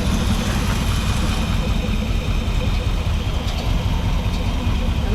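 A 1984 Dodge W150 truck with a 360 LA engine idles steadily, a continuous low rumbling drone with a dirty fan, heard close and constant throughout.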